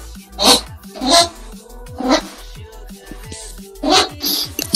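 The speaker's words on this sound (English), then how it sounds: "Dog's decided to come and join us." A dog sounds off near a golf course on a par 4, in short bursts of four or five loud, snorting, sneeze-like barks spread over several seconds, with a low hum underneath.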